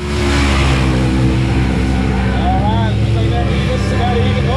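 CF Moto and Honda Talon side-by-sides race through mud at Mountain Mayhem 2023, their engines roaring loud, close and unbroken, with revving throughout and a voice faintly under the noise.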